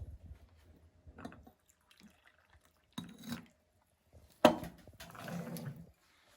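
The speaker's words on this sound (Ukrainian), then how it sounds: "Зараз я наливаю собі зелененького чайку." Green tea is poured into a cup in a home kitchen: a few short liquid splashes and a sharp clink, then a longer trickle, all fairly quiet with no voices.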